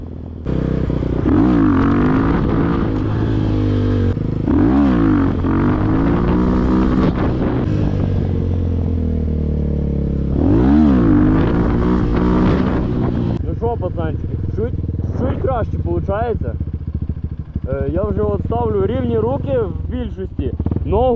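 Kovi Advance 2 motorcycle engine revved during stunt practice: loud, close repeated throttle blips climbing and falling in bursts, with a rider talking over the engine in places.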